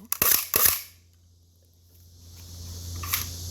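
Two sharp, loud cracks of a toy Desert Eagle gun firing in quick succession, then quiet hiss and a faint click near the end.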